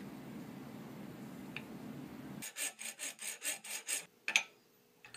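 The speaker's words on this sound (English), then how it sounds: "you slowly scrape down the high spots until the part approaches the reference surface" Hand scraping the high spots on a metal lathe carriage casting, a series of about seven short rasping strokes in a steady rhythm, close and fairly quiet, following a stretch of low background hum.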